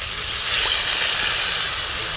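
Water is added to a hot pan of fish curry cooked with mustard. It gives a loud, continuous steamy hiss and sizzle that stays steady for the whole stretch, with no voices.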